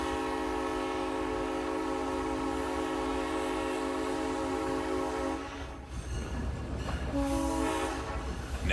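A 1960s Southern Pacific locomotive's whistle blows a long, steady, musical chord on a heritage train running through desert country, then trails off into rolling wheel rumble, followed by a shorter whistle blast.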